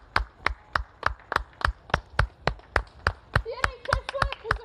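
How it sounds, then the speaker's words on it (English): Outdoor applause in support of the NHS, sharp regular claps in a steady rhythm that grow denser toward the end, with voices present in the background. "at 8 o'clock everyone's going to be applauding to support the NHS"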